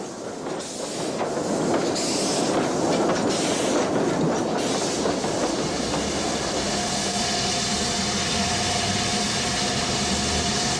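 A steam train rumbles steadily along the rails with a dense, continuous roar and faint rhythmic clatter; a thin whistle-like tone enters near the end.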